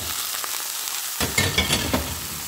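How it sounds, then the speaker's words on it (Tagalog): Fresh broccoli tipped into a pan of frying chicken with garlic paste: a quiet sizzle, then a sudden louder burst of crackling as the florets hit the hot oil, with stirring scrapes, close up. "Ilagay natin yung ating broccoli."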